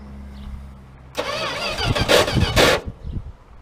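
A truck engine cranks on its starter after a quiet start, churning in a rough, uneven rhythm for about a second and a half with loud surges, then dropping back without catching.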